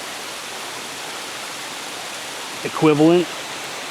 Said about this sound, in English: I could just sit here and stare at this waterfall all day.